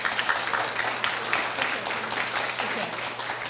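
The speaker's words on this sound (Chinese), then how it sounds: "咱搁再用热烈的掌声，咱来谢谢咱的节牧师。" A church congregation at a Taiwanese-language Sunday service applauds warmly, a dense, steady clapping that fills the room for a few seconds without pause.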